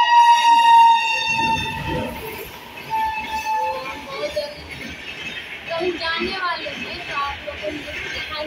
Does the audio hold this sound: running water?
no